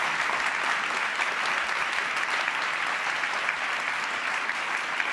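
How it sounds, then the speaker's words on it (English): Sustained, full applause from a large audience at a humanitarian congress in a Berlin hall, many hands clapping in a dense, steady wash without a break. "I would like us to give a big round of applause for those people too"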